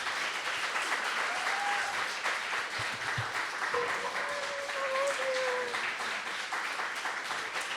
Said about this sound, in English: Can you please give a round of applause for Makayla Posely?